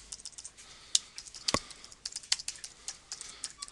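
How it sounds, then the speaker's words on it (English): Fingers tap a computer keyboard in a quiet room, with a quick, uneven run of light clicks and a few sharper key strikes, heard alone and close. "of course I can type away as I would normally expect."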